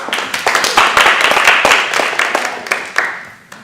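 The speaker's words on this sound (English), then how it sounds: "Give yourself a applause" A small class group at a Miracle Project session claps, with distinct individual hand claps over a short burst that thins out and fades toward the end.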